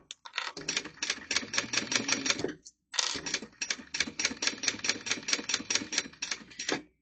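Sewing machine stitching a mini wristlet in rapid, even bursts, running for about two and a half seconds, pausing briefly, then stitching again at the same quick clattering pace, close and alone.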